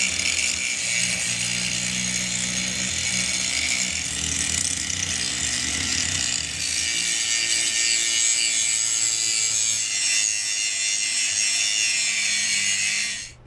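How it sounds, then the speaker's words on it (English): An angle grinder grinds rust pits off the steel drawbar of a John Deere 3520 tractor, a loud, continuous abrasive hiss with a steady motor whine that runs unbroken and cuts off at the end. "get the grinder out here and see if I can take some of this surface off"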